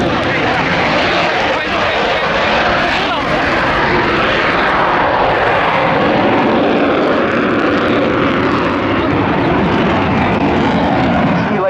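A French Navy Dassault Rafale Marine jet from Flottille 11F flies its display at Yeovilton Air Day, a loud, steady, broadband engine roar filling the whole stretch while a commentator talks over it.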